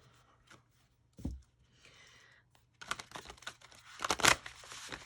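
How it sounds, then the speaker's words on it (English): Tarot cards shuffled by hand in a short burst of papery riffling and crinkling, close and fairly quiet, with a few scattered taps before it and no talk. "So I'm going to shuffle."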